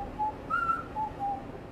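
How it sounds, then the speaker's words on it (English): A woman, a Broadway performer, whistles a short tune in clear, separate notes, some held longer, close to the microphone with faint room noise behind. "Are you whistling in or out?"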